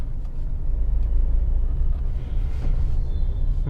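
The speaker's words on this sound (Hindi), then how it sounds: "अभी यहाँ पे बहुत ज़्यादा ट्रैफिक है" Steady low engine rumble from a car inching through heavy, slowed-down city traffic in second gear, heard from inside the cabin as a continuous drone without talk.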